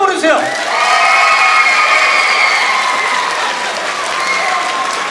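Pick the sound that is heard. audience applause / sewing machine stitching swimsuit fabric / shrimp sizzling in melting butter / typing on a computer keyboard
audience applause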